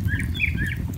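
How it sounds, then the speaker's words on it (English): Mockingbird singing on a morning outdoors, short bright chirping phrases repeating over a low steady background rumble, moderately close. "It's a mockingbird."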